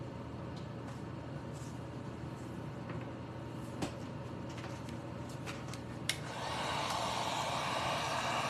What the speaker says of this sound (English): I'm just gonna plug in my heat gun so I can dry these real quick.